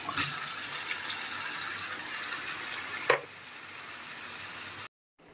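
Chicken sizzles in a pan while being sautéed for a Bengali cashew and poppy seed curry, a steady close hiss with a clink partway through before the sound cuts off.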